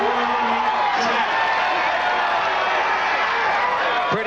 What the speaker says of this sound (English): The crowd likes that.